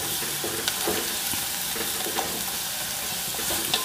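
Spices fry in oil in a clay pot for a Malvani chicken curry, a close, steady sizzle with small crackles and occasional stirring knocks throughout.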